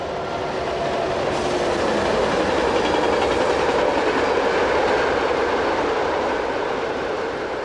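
A freight train carrying containers, swap bodies and semi-trailers rolls past on the Dijon–Lyon line, a loud, continuous roar of wagons and rumbling wheels that holds steady for several seconds.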